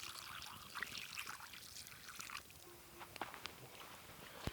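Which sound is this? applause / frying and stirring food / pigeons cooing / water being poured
water being poured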